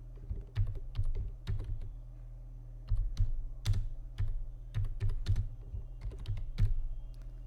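A class name being typed on a computer keyboard, with distinct key clicks in quick bursts and short pauses between them, close and clear with no speech.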